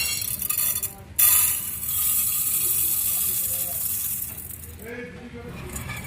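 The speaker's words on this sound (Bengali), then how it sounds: "কৌটোতে গোবিন্দভোগ চালটা মাপ করে নিচ্ছি" Gobindobhog rice scooped into a small measuring tin, with a sudden sharp burst of grains rattling and pouring, then softer shifting rustles under a voice.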